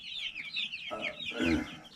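Chickens cluck and murmur close by, a soft stream of clucks with one louder, drawn-out call toward the end.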